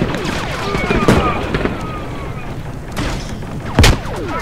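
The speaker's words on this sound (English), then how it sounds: "Throw a grenade in that super." Two heavy booms from grenades in the sci-fi shooter Galactic Contention, one near the start and a sharper, louder blast near the end, amid scattered gunfire and battlefield noise, with voices talking in the mix.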